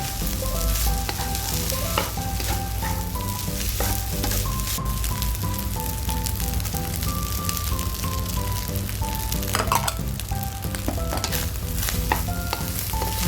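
Carrot and onion being stir-fried in a pan for Chinese sausage fried rice, a continuous loud sizzle with scraping and stirring strokes of a spatula, close-up, while background music with a simple melody plays throughout.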